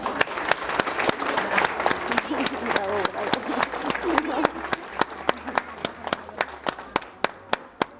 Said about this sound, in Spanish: Recibamos con un fuerte aplauso a estos chiquitos.